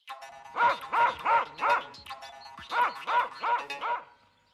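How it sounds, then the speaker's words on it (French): Dogs bark in two quick bursts of four rhythmic, resonant woofs each, close and clear as a storybook sound effect, with a short pause between the volleys and no talking. "Des chiens voudront te dévorer."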